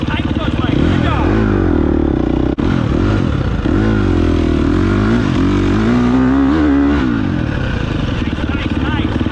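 Motorcycle riding during a training session, a loud continuous engine drone rising and falling in revs with close rumble, while people talk over it.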